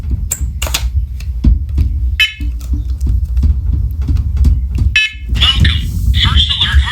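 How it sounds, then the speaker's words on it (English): A First Alert carbon monoxide and smoke alarm powering up: sharp electronic beeps and a synthesized voice announcement, close and loud, with handling noise between the tones. "First alert carbon monoxide and smoke alarm."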